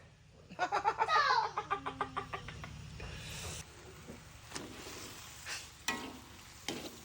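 Chili paste for a prawn curry stirred in a frying pan, with a burst of rhythmic scraping strokes early on, then softer intermittent scrapes and a low sizzle, fairly quiet overall.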